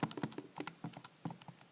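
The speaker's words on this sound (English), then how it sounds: "this stuff I'm just typing into my calculator" Quick, irregular taps of fingers punching numbers into a calculator, about a dozen light clicks in under two seconds, close and fairly faint.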